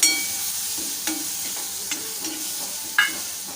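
Grated carrot is stirred and sautéed in a hot pan for a breakfast tiffin dish, with a steady sizzle and a few sharp scrapes of the spoon against the pan.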